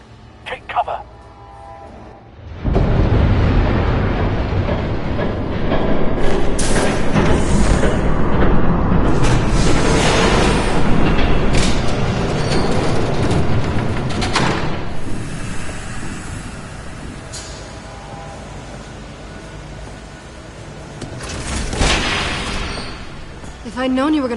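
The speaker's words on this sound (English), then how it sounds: "There's a train coming." A train thunders past in a PS4 video game: a loud, sustained rumbling roar that starts abruptly after a quiet opening, holds steady, eases off and surges again near the end, with game voices mixed in.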